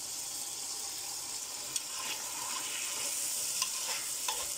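Grated tomato sautés in a pan with a steady soft sizzle and hiss, broken by a few brief stirring clicks of a utensil against the pan; no voices.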